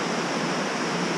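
An Icelandic waterfall where water pours out of the rock face rather than off the top, heard as a dense, steady broadband rush of falling water, close and continuous.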